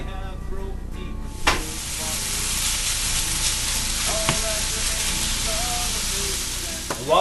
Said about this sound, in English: While the ground beef is cooking